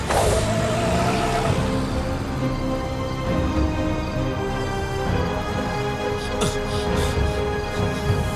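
A car engine starts and the vehicle pulls away at close range, a loud dense motor rumble that holds steady and rises slightly, with a voice briefly heard over it.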